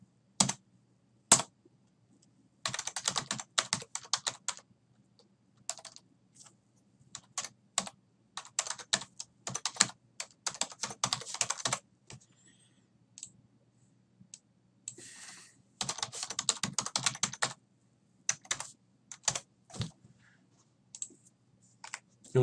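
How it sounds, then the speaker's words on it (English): Typing on a computer keyboard while entering chart axis labels in Excel: close, crisp bursts of rapid key clicks separated by short pauses, with no talking. "we're going to type in our labels for our axes"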